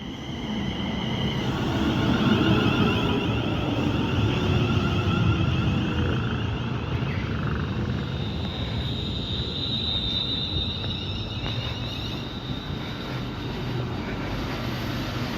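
A pair of British Rail Class 350 electric trains passes at Wolverton on the West Coast Main Line, a loud sustained roar with rattling wheel noise and a faint high whine that holds for many seconds without talk.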